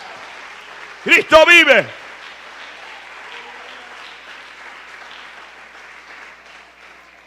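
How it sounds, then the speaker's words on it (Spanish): Applause from a church congregation, a soft continuous wash of clapping that carries on throughout, briefly covered near the start by a loud voice calling out. "Dale un aplauso al Señor fuerte si usted puede ahora."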